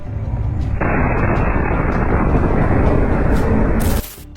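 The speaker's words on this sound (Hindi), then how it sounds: "अल कुद्स के लड़ाके एक गली में छिपकर सामने से आ रहे आईडीएफ के एक बुलडोजर को आईईडी ब्लास्ट से उड़ा देते हैं" An IED blast hits an IDF bulldozer in a street, a loud, sustained roaring burst of noise that holds for several seconds and then cuts off abruptly.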